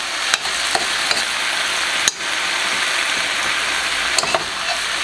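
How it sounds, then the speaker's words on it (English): Mushrooms and onions cooking down in a pan hiss with a constant, even sizzle, broken now and then by sharp clicks and scrapes of a utensil. "We are just going to cook this down where these mushrooms break down, get rid of some of their liquid."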